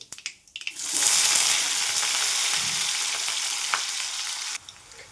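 A green chilli and garlic paste hits hot oil for tempering and bursts into a loud, sustained sizzle that holds steady for several seconds before cutting off abruptly, heard close up with no talking.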